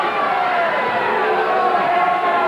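Capacity crowd in a 1986 WWF wrestling arena, a loud, steady roar of many voices filling the hall throughout, with no single voice standing out.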